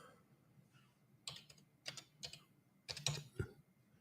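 Computer keyboard typing in short bursts of clicking keystrokes, separated by pauses, close and fairly quiet, with no voices.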